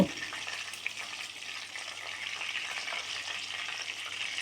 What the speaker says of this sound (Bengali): রোস্টেড পিসগুলো দুই পাশ হালকা লালচে কালার করে ভেজে নেব